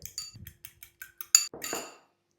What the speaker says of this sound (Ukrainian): Вилочкою гарно його перебиваємо.